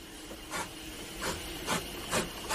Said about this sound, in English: What's that? A steam engine.